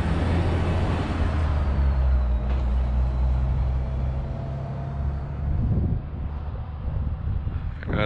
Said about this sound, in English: And I got a truck coming down here now.